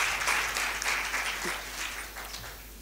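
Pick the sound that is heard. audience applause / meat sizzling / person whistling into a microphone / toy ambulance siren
audience applause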